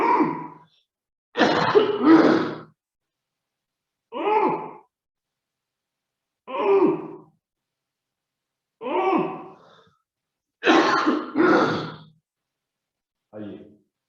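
Short ujjayi breaths taken with a constricted voice box come as seven separate raspy, voiced throat sounds, some in quick pairs, loud and close with silent pauses between them.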